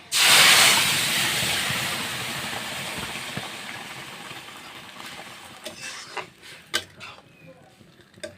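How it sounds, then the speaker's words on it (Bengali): Boiled dal tipped into hot oil with reddened garlic and dried chilli bursts into a loud, close sizzle that slowly fades to a steady hiss, with a few clinks of a spoon against the pan near the end. "ডাল সিদ্ধটা দিয়ে দিচ্ছি।"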